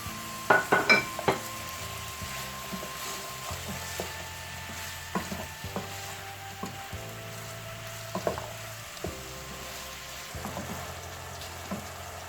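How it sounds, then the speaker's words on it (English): Vegetables for chicken fried rice are stir-fried with mixed herbs, seasoning and salt, giving a soft continuous sizzle broken by scattered scrapes and clinks of a utensil against the pan, under quiet background music with no talk. "While I'm stir frying the vegetables, now I'm going to add the mixed herbs, seasoning and the salt together."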